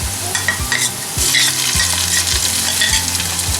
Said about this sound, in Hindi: अब हम इसमें डालेंगे लहसुन अदरक का पेस्ट।